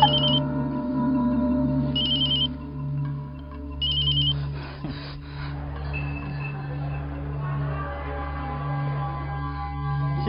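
A telephone in a TV drama scene rings in short repeated electronic bursts over a low steady hum, then goes quiet as the room tone carries on.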